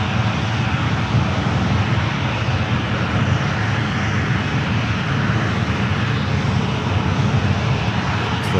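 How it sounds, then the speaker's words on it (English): An airliner roars overhead while landing on runway 28 at San Francisco International Airport, a loud, continuous engine rumble that holds steady throughout. "possible double landing again on the 28s"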